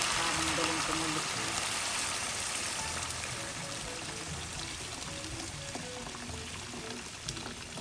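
Boiled water poured from a container while cooking chicken tinola, a continuous splashing, gurgling pour close to the microphone, with a voice faintly in the background.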